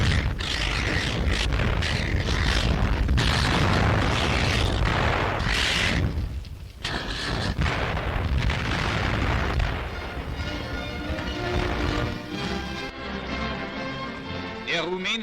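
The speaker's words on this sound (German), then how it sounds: "Bunker der Bolschewiken vor Odessa werden im Zusammenwirken von Pionieren und Artillerie niedergekämpft." Artillery fire and engineer demolition charges pounding Soviet bunkers near Odessa in 1941, heard as a dense run of loud booms and blasts with a brief lull, then continuing under orchestral music.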